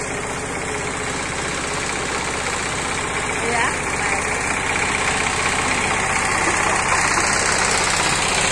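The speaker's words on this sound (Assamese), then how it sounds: "আজি মানে প্ৰথম ট্ৰেক্টৰ বাইছে" A tractor engine chugs steadily nearby while ploughing a field, a constant rumbling drone throughout, with a brief word spoken over it.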